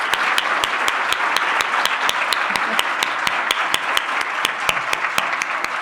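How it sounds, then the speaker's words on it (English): An audience gives a loud, sustained round of applause for a woman standing up at a closing session, with sharper claps landing in a steady rhythm through the dense wash. "Can we please give Anita a huge round of applause?"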